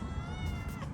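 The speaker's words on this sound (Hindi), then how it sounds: "ये ब्राउन वाली बहुत तेज़ है, ये सबका खा जा रही है। और वो बेचारी, उसको मैंने दिया, वो उसको खाने ही नहीं दिया किसी ने, वो डरपोक बिल्ली है।" A cat meows amid restaurant background noise and clatter, a short close call lasting about a second with no talk over it.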